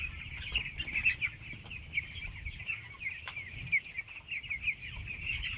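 A flock of fifteen-day-old chicks raised on sand chirp and peep continuously in a busy, high-pitched chorus, moderately quiet, with faint rustling and a low background rumble.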